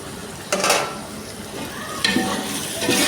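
Chopped tomato fries for biryani with a steady low sizzle, broken by a few short scraping stirs of a spoon against the pan.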